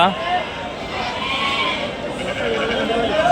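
Sheep bleat at a busy weekly livestock market in Angallu, wavering cries sounding continuously under a crowd's babble and nearby speech, fairly loud and close.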